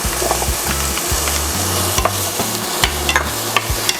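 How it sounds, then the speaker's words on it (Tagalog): Chopped onion sautéing in butter for beef mechado, a loud close sizzle with repeated stirring scrapes of a utensil against the pan in a steady rhythm. "ilalagay natin ang ating onion"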